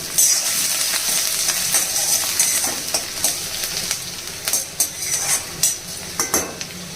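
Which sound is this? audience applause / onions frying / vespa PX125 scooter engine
onions frying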